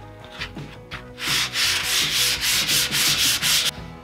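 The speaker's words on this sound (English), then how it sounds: "I wanna go over this with some 400 grit sandpaper just to see if I can make either the black or the blue pop" Light hand sanding of burned, charred cedar or pine with 400 grit sandpaper: a few soft strokes at first, then a steady run of close, even rubbing strokes in a regular back-and-forth rhythm that stops abruptly near the end.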